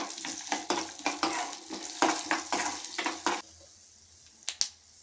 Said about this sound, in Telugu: పల్లీలు ధనియాలు వేయించుకుందామండి దోరగా.